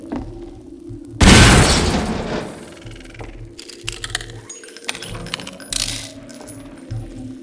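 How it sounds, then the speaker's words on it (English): Exploding barrels in Half-Life 2 set off a sudden loud burst with a long rumbling tail, followed by scattered clinks, taps and smaller pops as debris settles. "What's with all the exploding barrels?"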